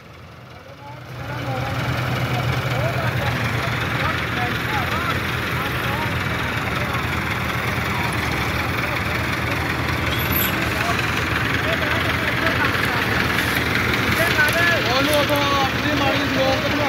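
A tractor engine idles with a steady low rumble close by while hauling a heavily loaded sugarcane trolley, continuous throughout, while people talk and call out over it.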